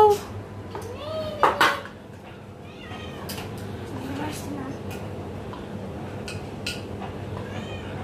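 Cutlery scrapes and clinks against bowls while pet food is mashed, a cat meowing clearly near the start, and soft voices talking throughout in a quiet kitchen.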